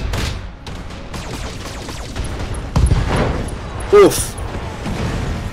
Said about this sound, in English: Turns out SRM explosions are bad for you.